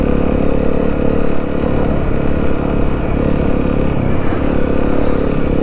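An adventure motorcycle rides along a trail at about 30 mph, its engine a steady, loud, even drone close by with wind rush over it and no voices.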